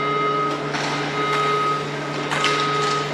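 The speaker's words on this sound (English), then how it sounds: "we've got an alarm in the background here" An alarm sounds steadily in the background of an ice hockey rink, a continuous tone that persists through the arena's ambient noise.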